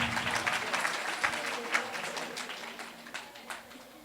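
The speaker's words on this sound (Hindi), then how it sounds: "इनके लिए एक बार जोरदार तालियां बजा दीजिए।" Audience applause at a religious gathering during a Shri Ram Katha in Ambala, Haryana: steady clapping from a crowd, moderately loud and sustained across the whole stretch, with a few sharper claps standing out.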